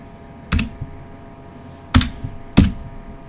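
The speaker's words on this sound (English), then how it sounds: "If I type in the word Diablo" Three separate keystroke bursts on a computer keyboard, spaced over a few seconds, close and moderately loud against a quiet background, as a word is typed into a Diablo III game text field.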